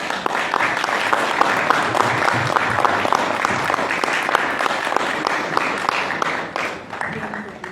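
An audience at a book launch applauds a speaker, steady, dense clapping that stays loud and even for several seconds before tapering slightly at the end, with faint voices underneath.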